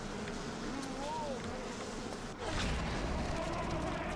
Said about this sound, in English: Why are the bees hitting me here?